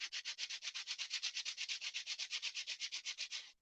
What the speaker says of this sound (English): We're going to sand some of that.